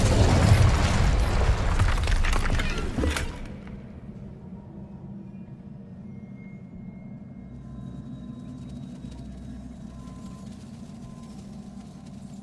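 A loud roaring burst of flame from the Incendio fire spell in Hogwarts Legacy, a fiery whoosh and boom during a troll fight that cuts off sharply after about three seconds, leaving a low rumbling ambience and faint distant tones.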